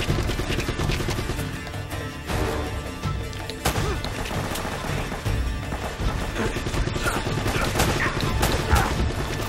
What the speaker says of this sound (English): Okay, turret guy, stop shooting me.